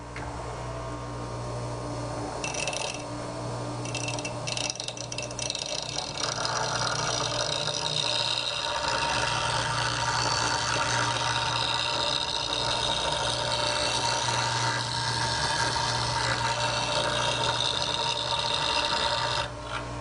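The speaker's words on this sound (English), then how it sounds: "I'm going to just set the bevel on the wheel, and I'm just going to grind this tool" A lathe tool held in a jig is ground on a bench grinder wheel, producing a continuous motor hum with a harsh, steady grinding hiss for the whole stretch, no voices.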